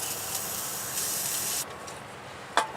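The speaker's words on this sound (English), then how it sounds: "Spray the brake cleaner down inside of it." Brake cleaner sprays in a steady loud hiss for over a second and a half, then stops, followed by a quiet pause and a short clack.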